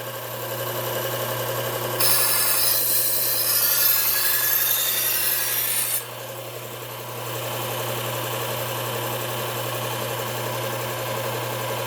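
A dull kitchen knife is sharpened: a steady mechanical hum runs throughout, joined for about four seconds by a louder, harsh grinding rasp as the blade is worked, then settling back to the hum alone.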